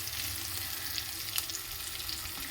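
An egg fries in a pan with whole cumin, producing a soft, steady sizzle with one brief clink as it is turned over.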